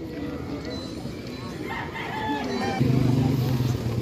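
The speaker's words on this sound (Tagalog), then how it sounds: "Meron din dito mga manok." Red chickens clucking with a rooster crowing nearby at a livestock market, amid a busy outdoor background hum, a louder cackling burst toward the end.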